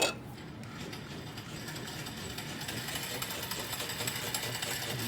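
Small early electric motor on a school science teacher's desk, powered from a rheostat-controlled DC outlet, a steady faint whirring hum with fine ticking, continuous and even throughout.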